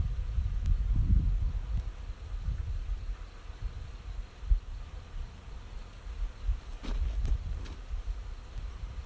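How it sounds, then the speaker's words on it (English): Honeybees at an opened beehive, a low continuous buzzing close by with occasional rustles and knocks over it, no talking. "I thought the bees were going to fly off the top."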